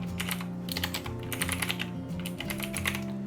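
Computer keyboard typing while entering title-block text in ZWCAD drafting software, a steady run of quick key clicks over a continuous tonal background, with no talk.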